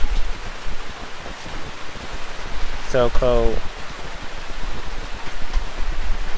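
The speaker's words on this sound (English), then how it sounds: "And now it has even begun to rain." Rain falls continuously as a steady, loud hiss of drops on surfaces, while a voice briefly speaks over it partway through.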